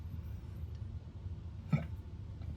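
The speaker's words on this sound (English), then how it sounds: "oh boy, hiccups" A single short hiccup, fairly close and sudden, rising out of a quiet room hum with no talking.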